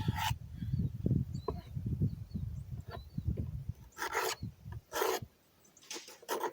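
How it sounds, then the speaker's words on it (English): Old deposits being scraped off the plates of a hydrogen cell from a van, heard as rough, uneven rasping close by, with a few sharper broadband scrapes near the end. "So scrape some of the old off."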